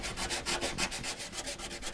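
Sandpaper rubbed over ebony guitar wood with paste pore filler, a quick series of rhythmic back-and-forth scratchy strokes, close and fairly loud, about a dozen passes in two seconds.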